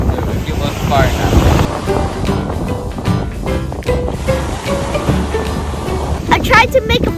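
Wind buffeting a microphone over breaking waves at Playa de la Chiva, a blue-water beach on Vieques, Puerto Rico, a constant loud gusty rush, with voices talking throughout.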